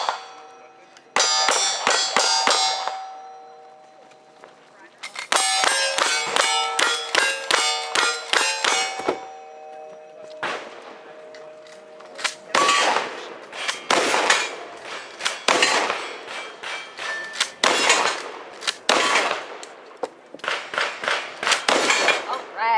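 Shotgun fire on a stage of a cowboy-style shooting competition: bursts of rapid, sharp bangs mixed with ringing metallic clangs, fairly close and loud, with pauses between strings and voices talking nearby.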